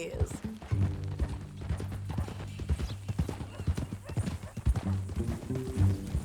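Horse hooves clip-clop steadily in the Red Dead Redemption 2 video game, a close rhythmic plodding that continues throughout under a low hum, with occasional voices talking.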